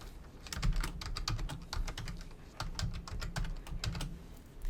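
Fingers type login details on a computer keyboard in two bursts of rapid, close keystrokes separated by a short pause, clear and isolated with no voices.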